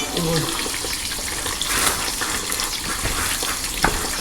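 Water leaks and gushes steadily from a well motor pipe being repaired deep down a well, a continuous hiss and splash mixed with voices talking nearby.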